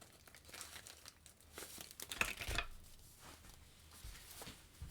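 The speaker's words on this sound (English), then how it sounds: "And then you're going to grab your envelopes." Paper envelopes for a mini notecard set rustle and crinkle as they are handled and tucked into a small box, a close, steady crumpling texture with a brighter crackling burst midway.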